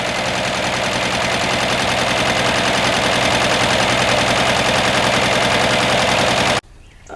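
A 1961 Ford Falcon engine idling unevenly with a dead cylinder, a loud rapid knocking chug that runs steadily and then cuts off abruptly near the end.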